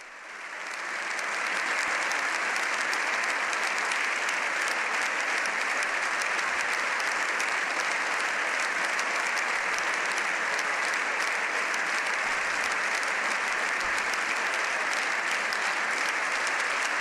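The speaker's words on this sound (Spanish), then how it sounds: "Largo el aplauso que ofrecen al Papa León XIV" Sustained, dense applause from deputies in the Spanish Parliament for Pope Leo XIV, rising quickly and holding steady at a full, even roar for a long stretch with no voices breaking through.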